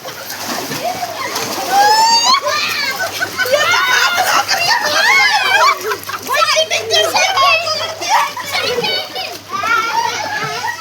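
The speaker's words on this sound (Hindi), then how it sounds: "ये देखो बढ़िया है स्विमिंग पूल।" An outdoor swimming pool rings with constant splashing and the excited shouts and chatter of playing children, loud and busy throughout.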